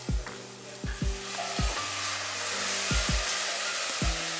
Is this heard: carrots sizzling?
yes